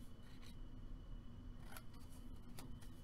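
Scissors cutting corners from scored paper or card for a pocket organizer, a few faint snips and rustles over a steady low background hum.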